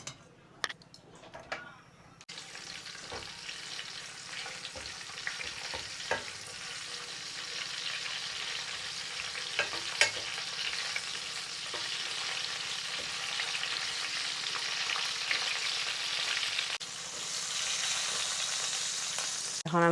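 Green chili, one black cardamom, two green cardamoms, four cloves and cinnamon fry in oil for a shing fish bhuna, a soft continuous sizzle broken by occasional ticks and scrapes of stirring, nearby with no talk.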